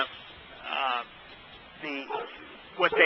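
Several separate bursts of a dog barking in the background of an online Torah study session, spaced over a few seconds and fairly loud on a narrow, call-like line.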